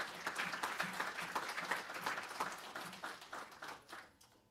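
An audience claps and applauds at a university athletics celebration honoring championship men's basketball teams, a dense, steady patter of many hands that gradually thins and fades toward the end.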